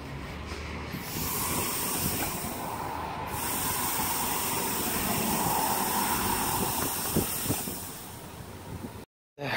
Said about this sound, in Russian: где-то там шипит, не знаю где. Может, даже золотник.